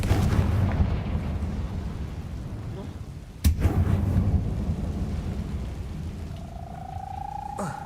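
A Confringo fire spell blast in the Hogwarts Legacy video game, a single sharp, booming burst midway that fades into a rumbling tail over continuous low game ambience.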